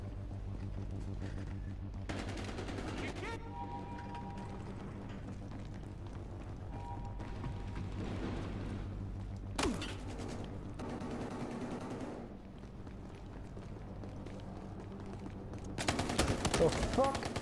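Gunfire in the video game Battlefield Hardline, bursts of shots and rapid fire scattered across the stretch, mostly at moderate level with a sharp loud burst near the end, while players talk over it.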